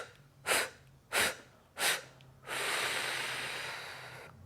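Three short forceful nasal breath pulses in a steady rhythm, followed by one long, deep, sustained exhale during a yoga breathing exercise, close and fairly loud, with no talking.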